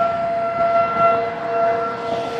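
ACA P50 tornado warning sirens sound during a test in Joliet, Illinois: a steady, sustained wail with clear tonal pitch, heard from a distance outdoors with no talking.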